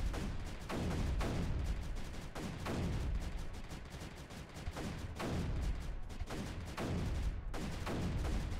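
Repeated mortar fire from the strategy video game Creeper World 3, a steady barrage of booming thuds in a dense, continuous stream, loud and close with no pauses.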